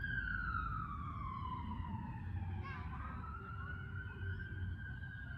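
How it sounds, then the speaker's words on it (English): A fire truck siren in St. George, Utah wails in the distance, its pitch sliding slowly downward over steady low road rumble, with a brief horn-like blip partway through. "It's a fire truck."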